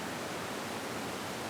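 Steady broadband rush of the Tokiəxıl waterfall in Lerik, a rocky gorge setting, filling the whole moment as a continuous, even roar with no voices.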